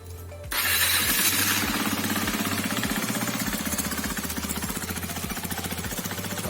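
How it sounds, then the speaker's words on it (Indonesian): A KTM Duke 390 motorcycle starts up close after a short crank. It settles into a loud, steady, rapidly pulsing single-cylinder idle that thumps evenly and continues to the end. "kita dengar suara dari KTM Duke 390"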